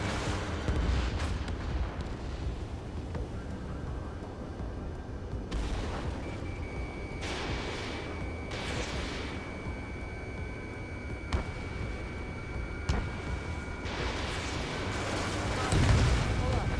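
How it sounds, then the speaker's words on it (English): Missiles launch and strike targets in the Ace Combat 7 flight combat game. Several whooshing, booming bursts rise over a constant dense roar of jet engine and battle noise. "Missile launched. Missile connected."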